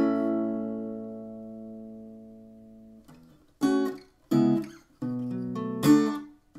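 An acoustic guitar plays a passage from a song, opening with a long sustained chord that fades, then several plucked chord strums in quick bursts, close and alone.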